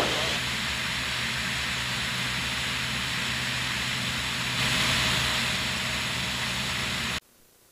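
Cirrus airplane engine in formation flight, a steady broadband cabin roar and drone that swells slightly as power rises, then cuts off abruptly near the end.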